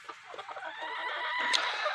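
A young rooster in a farmyard gives a short, strained harmonic call, rising and wavering over about two seconds, close by with faint background shuffling.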